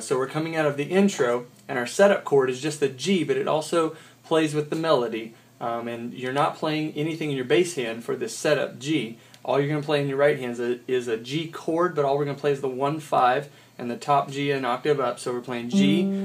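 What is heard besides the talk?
No everyday noises stand out.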